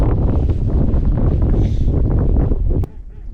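Steady, loud wind buffets the microphone beside a stillwater trout bay, a continuous low roar that cuts off abruptly near the end.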